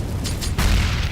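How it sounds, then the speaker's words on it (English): Grenades going off in a Counter-Strike match: a pair of sharp, heavy booms land in quick succession, the second louder and longer, with a rumbling tail filling the short moment. "Some warning grenades from OpTic."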